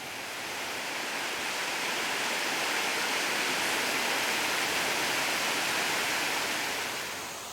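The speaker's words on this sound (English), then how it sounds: "Last waterfall of this adventure. This is Onondaga." Onondaga waterfall roars as a steady, broad rush of falling water, loud and continuous throughout with no voices.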